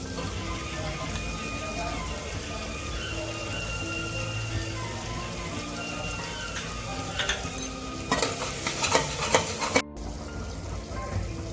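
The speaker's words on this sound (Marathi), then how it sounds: "तेलामध्ये चांगला भाजायचा मसाला चटणी टाकायची" Masala chutney frying in hot oil, a dense continuous crackling sizzle that swells louder near the end with a few sharper bursts, heard close with no speech.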